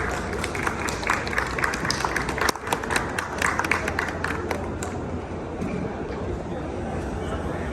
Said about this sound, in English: Can we please welcome Mr.